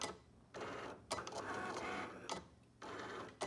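A Cricut cutting machine draws with a pen, its carriage motor buzzing in short bursts broken by quiet pauses as the head moves between strokes, close and fairly soft.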